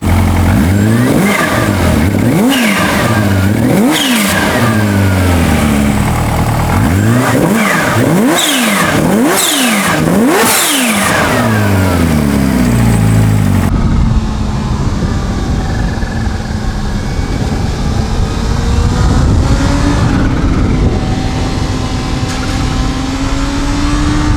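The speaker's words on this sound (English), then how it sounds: "It's got this big, beefy inline 4 with the supercharger noises" A supercharged inline-four motorcycle engine revs repeatedly in quick rising and falling bursts, then settles into a sustained high supercharger whine with a loud, buzzing drone.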